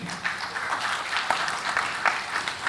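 An audience at an oil and gas industry panel session applauds an honoree, a steady moderate patter of many hands clapping throughout.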